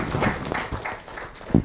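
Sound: audience applause for the professor

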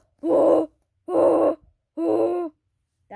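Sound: person imitating a koala

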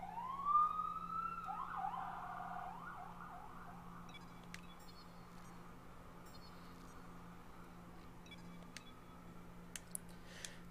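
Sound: emergency vehicle sirens

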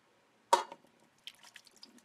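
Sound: pouring liquid over potatoes

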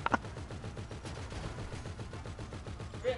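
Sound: gunfire in video game GTA 5 Online

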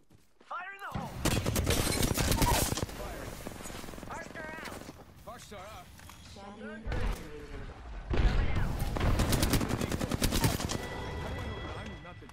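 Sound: gunfire in a video game

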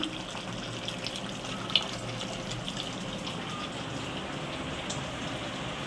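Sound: water running while rinsing a bowl

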